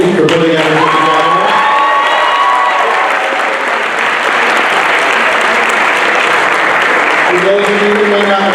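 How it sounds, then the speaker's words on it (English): A round of applause with cheering and whoops from a prom audience in a school auditorium, loud and continuous, with voices and shouts rising over the clapping at the start and end. "please give a round of applause to our prom committee for putting everything together"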